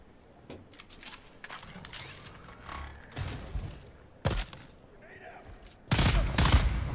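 Grenade explosions and gunfire in the Dune Awakening video game come as scattered sharp bursts and bangs, with a loud blast near the end, while a person talks between the shots.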